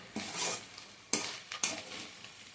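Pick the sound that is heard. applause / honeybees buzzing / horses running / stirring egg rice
stirring egg rice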